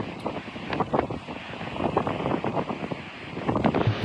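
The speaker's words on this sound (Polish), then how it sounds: "bo to naprawdę tak wieje." Strong wind at a campsite in Australia buffets the microphone in a constant roaring rush, gusting louder at moments, with no voices.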